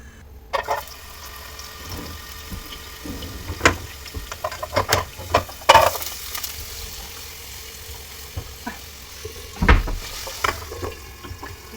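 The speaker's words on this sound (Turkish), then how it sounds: "Havuçlarımı şöyle bir yağda çevireceğim arkadaşlar." Carrots sizzle and crackle in hot oil in a small pot, with intermittent stirring clatters and scrapes, fairly close and moderately loud.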